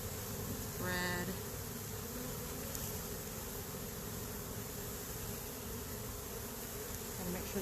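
Honey bees swarm and buzz around an open hive, a dense, steady droning hum close by that holds evenly throughout with only slight swells.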